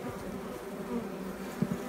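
A dense, steady buzz of many honey bees fills the air during queen-rearing cell builder colony setup, close and continuous, with a few louder passes near the end.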